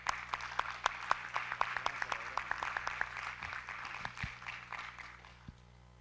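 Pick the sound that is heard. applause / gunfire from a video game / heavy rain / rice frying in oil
applause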